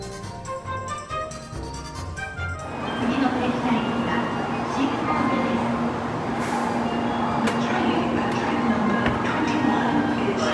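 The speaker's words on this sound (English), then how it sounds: "Alright, our train is here." A Japanese Shinkansen bullet train pulls into a station on the Osaka–Hiroshima line, a deep, rising rumble and rushing roar that swells after a few seconds and then holds steady, with voices faintly present early on.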